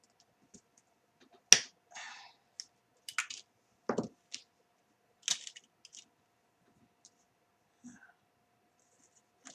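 Wire being cut to length with a cutting tool for making homemade jump rings: a few sharp, close snips and clicks spaced across a quiet background.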